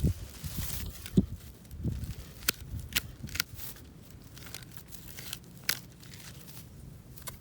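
Hand cutters snipping side branches off thin tree whips, a series of quiet crisp clicks and snaps with light rustling of twigs, scattered irregularly and close by.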